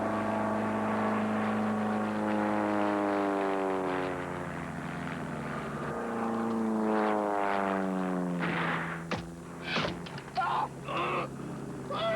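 A small propeller plane drones in a film chase scene, with a steady buzzing engine whose pitch bends as it passes, then sharp thumps and clatter near the end.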